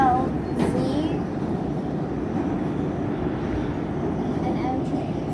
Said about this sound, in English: So we're on an 8 car train right now.